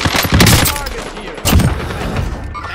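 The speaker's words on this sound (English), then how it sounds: "Getting shot at" Heavy gunfire in a video game firefight with a possible sniper on top of a stadium: two loud, booming bursts of rapid shots with rumbling tails, close and dominant over a noisy battle background.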